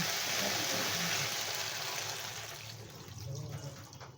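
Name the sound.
water poured into shukto curry in pot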